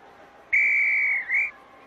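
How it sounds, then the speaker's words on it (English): A single steady whistle tone from the PC game I Spy: Fun House, about a second long, dipping briefly before ending, clear and alone over a quiet background. "A whistle."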